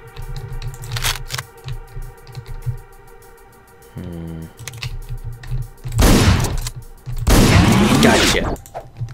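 Gunfire from the video game Hotline Miami, heard as a couple of sharp, loud blasts toward the end over a pulsing synth music track, with a brief buzzing effect in the middle.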